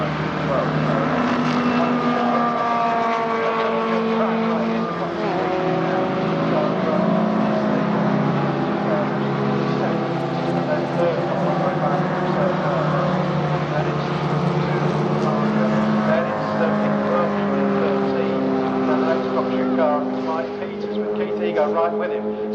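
Vintage MG Midget race cars, a white one and a blue one, run side by side around a circuit in a classic car race, their engines droning steadily with shifting pitch under continuous trackside commentary.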